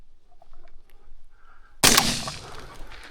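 A shotgun loaded with No. 10 shot fires once at wild pigeons while hunting in Kakheti, Georgia, near vineyards. A sharp, loud blast breaks a quiet outdoor stretch and trails off into a rolling echo.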